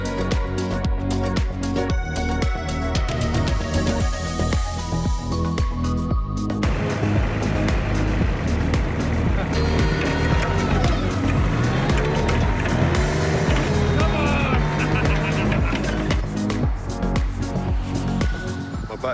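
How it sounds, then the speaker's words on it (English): Digger and dumper working on a building site while a back garden is ripped out to build a forecourt for a home car dealership, a continuous close rumble of diesel engines with grinding, scraping and clanking throughout. "We got Dan Dixon on the digger, me on the dumper."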